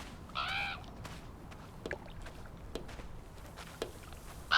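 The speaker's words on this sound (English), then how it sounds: "What is that bird doing?" Caws from a crow-like bird in the horror game Draugen, a short harsh burst of calls early on, then quiet ambience broken by faint footstep-like taps.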